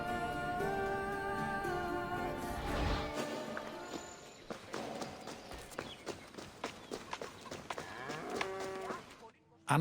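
Cattle moo repeatedly on a farm in the video game Assassin's Creed Odyssey, drawn-out lowing calls up close, followed by scattered hoof clops and shuffling movement under a faint ambient bed.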